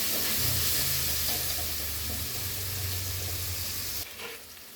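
Onions frying in a pan for paneer butter masala, a loud constant sizzling hiss with occasional stirring, close up, easing off near the end.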